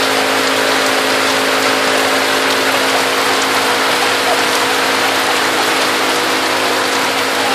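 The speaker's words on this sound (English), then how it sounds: "And then it just starts raining." Steady rain falls in Costa Rica near a marina, a loud, even hiss of drops with a faint low hum running underneath throughout.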